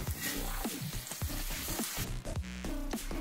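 Butter and a bread slice frying on a hot tawa give a steady, close sizzle with repeated crackling bursts and a brighter hiss toward the end, no voices.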